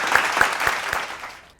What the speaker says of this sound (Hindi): हम सभी मिलकर जोरदार तालियों के साथ।